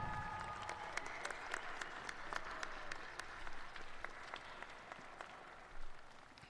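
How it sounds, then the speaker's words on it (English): Crowd applause for graduates at the Highland Community College 2025 graduation ceremony: sustained clapping from a large, somewhat distant audience, with individual sharp claps standing out and a couple of brief swells near the end. "We applaud you"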